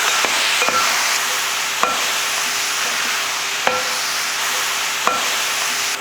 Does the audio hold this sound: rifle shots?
no